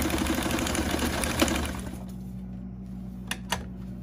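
Home sewing machine stitching junk journal envelopes and pockets, running in a fast steady whir for two seconds before stopping, followed by a few sharp clicks and handling taps.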